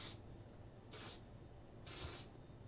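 Two short, soft hissing spritzes from an adjustable spray bottle set to medium mist across hair, evenly spaced about a second apart, close and quiet, with no talking.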